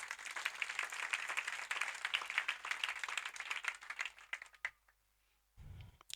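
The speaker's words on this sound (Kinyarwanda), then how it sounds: "Mukomere Imana amashyi ko Imana yabikoze" A congregation applauding and clapping for God, a dense sustained burst of many hands that fades out, then a brief low rumble near the end.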